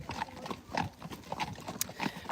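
Friesian horses walking outdoors on a trip out, their hooves clip-clopping in a loose, uneven rhythm, fairly faint and mid-distance, with a quiet voice briefly in the background.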